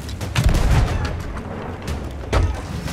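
Ship cannon fire in Sea of Thieves: a couple of heavy booming shots, one early and one near the end, over a rumbling background of sea and ship noise.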